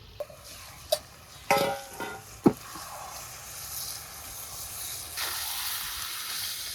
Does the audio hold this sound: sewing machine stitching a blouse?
no